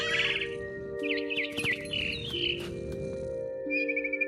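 Birds chirping and tweeting in the video game What Remains of Edith Finch, several bright repeated calls over a steady tonal background drone, clear and close.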